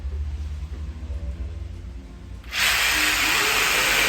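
Jigsaw switched on at full speed with no pendulum action, clamped to a table: a low rumble gives way to an abrupt, loud, steady high-pitched whine that runs to the end.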